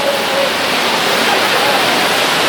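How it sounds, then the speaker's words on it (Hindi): Waterfall pouring into the Saraswati river at Mana village near the India-Tibet border in Uttarakhand, a steady, loud, close rushing roar of water with no break. "जो पीछे से जो नदी आ रही है, वाटरफॉल से पानी आ रहा है"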